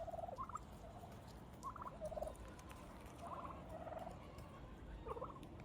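Several turkeys gobble intermittently in short bursts, fairly faint and a little distant, over a steady background hum.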